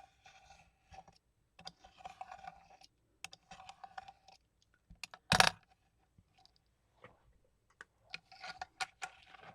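Material lined up on a grid for a craft journal is cut by hand with scattered quiet clicks and scratchy snips, including one louder rustling burst midway, separated by near silence.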